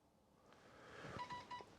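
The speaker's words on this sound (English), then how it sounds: "So there you heard my phone beep." A short series of electronic phone message beeps and tones, fairly quiet, with faint room noise around them, inside a 2019 Mitsubishi L200 using Apple CarPlay.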